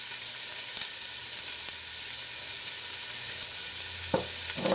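Chopped white onion sizzles in avocado oil over low heat, a steady soft hiss through the whole stretch with a few light clicks and a brief louder crackle near the end.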